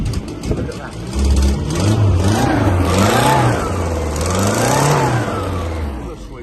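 A 1968 Vanden Plas 1300 Princess with its small engine running, a steady mid-pitched hum that swells and eases slightly as it revs, with a person talking nearby.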